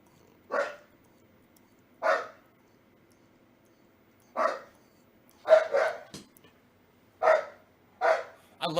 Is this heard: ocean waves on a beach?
no